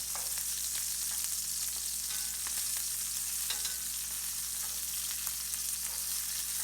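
Brussels sprouts laid face down in hot, smoking, spitting oil on medium heat give a steady, fairly quiet sizzle with scattered small pops and crackles, and no voices.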